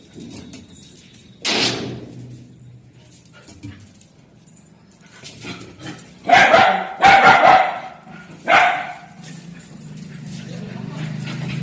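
A dog barks in a few sharp bursts, one early and a cluster later, nearby, with people talking in the background.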